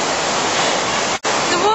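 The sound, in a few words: stream flowing from resurgence at Malham Cove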